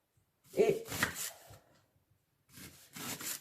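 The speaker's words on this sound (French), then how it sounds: "prend le couteau, on appuie et on fait le mouvement de scie" A knife saws back and forth through food for minestrone in two short bursts of rasping strokes, close and fairly quiet, with a pause between.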